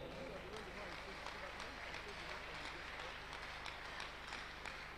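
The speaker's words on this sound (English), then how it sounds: "Clap unto God and appreciate Him." A church congregation at a Sunday worship service applauds in a steady wash of clapping, faint and distant, with a blur of voices mixed in.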